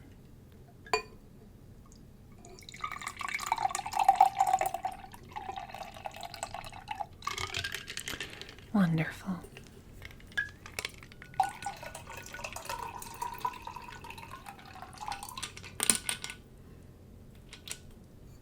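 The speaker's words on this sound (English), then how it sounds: "Well, I've poured 2 glasses." Liquid is poured into two glasses, with soft trickling and splashing, faint dripping and occasional light glass clinks spread across a quiet room; a voice speaks briefly.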